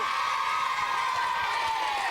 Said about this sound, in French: Sous les applaudissements, car c'est notre vainqueur